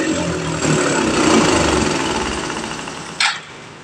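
A Suzuki Access 125 scooter engine runs with a loud, steady mechanical chatter that sounds rough and rattly, cutting off abruptly near the end with a brief clunk.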